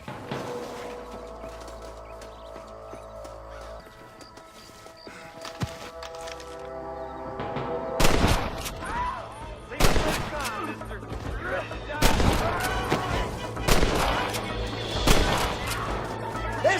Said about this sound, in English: Let's get as close as we can before opening fire.